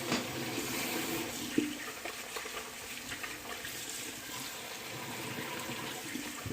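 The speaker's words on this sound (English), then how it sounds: "Do a quick rinse off." Tap water runs quietly to rinse a Rockwell 6S safety razor in a bathroom, a faint steady rushing stream with a soft splash or two.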